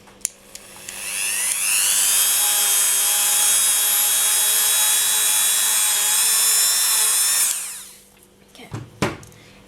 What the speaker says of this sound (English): But I'm going to be using a buffing wheel.